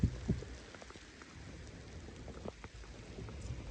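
Rain falling in a steady, soft patter with a low rumble underneath, faint and continuous, no talking.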